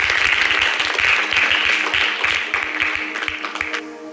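A church congregation claps in thanks to God on Indian Christian Day, dense applause that carries on loudly and tapers off near the end.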